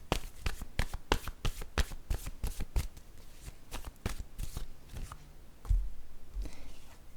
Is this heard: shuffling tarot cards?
yes